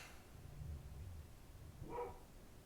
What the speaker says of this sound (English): Can hear our dog barking upstairs.